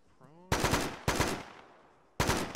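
Close, loud bursts of automatic gunfire in a tactical military shooter game, three rapid strings separated by brief pauses, preceded by a short voice.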